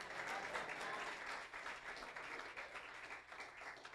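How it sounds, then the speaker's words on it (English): A church congregation claps together, a steady, even wash of many hands at moderate loudness that continues throughout with no voices over it. "Clap your hands"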